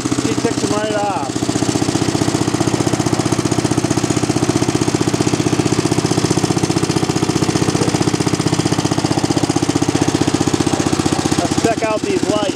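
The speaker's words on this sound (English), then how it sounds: "It's got an 8-horse Kohler engine on it." A small single-cylinder 8-horsepower Kohler engine runs loud and steady nearby, a rapid pounding chug throughout, with a voice faintly heard under it.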